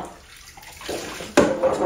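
Warm water pours from a tap while a Doberman puppy is bathed, faint at first, then a sudden louder splashing rush that continues steadily to the end.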